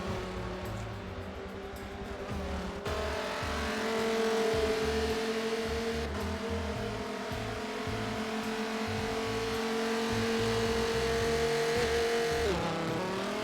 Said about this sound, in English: Here comes Apex having a look down, trying to get deeper braking